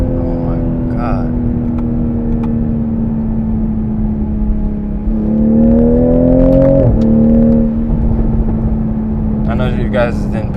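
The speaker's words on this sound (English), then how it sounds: "it did a lot of burbles and cracks and pops" A 2020 Toyota Supra's engine drones steadily, then revs up at full throttle with a rising, climbing note before dropping back. Crisp exhaust pops are not clearly distinct, and a voice may be faintly present underneath.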